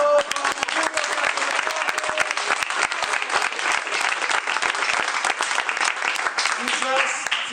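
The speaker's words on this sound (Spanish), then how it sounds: "Un aplauso." A crowd of people applauding steadily throughout, dense clapping that stays loud and even, with a voice briefly audible near the end.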